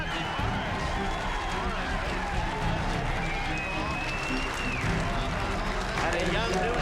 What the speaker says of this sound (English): the crowd is going to go crazy